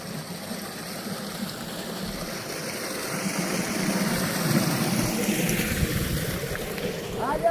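A motor runs at a cattle farm, giving a continuous rushing, humming noise that swells slightly louder toward the end, with faint talk in the background.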